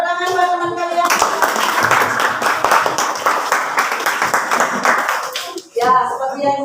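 A classroom of students applauding a classmate, a burst of brisk, uneven hand claps lasting several seconds, with a teacher's voice heard briefly before and after.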